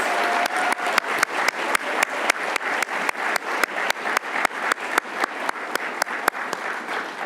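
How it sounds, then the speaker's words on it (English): Audience applause for years-of-service honorees at a university awards ceremony: steady, dense clapping from a large crowd, with a few sharp individual claps standing out, running continuously throughout. "Now let's give all of our years of service honorees one more round of applause."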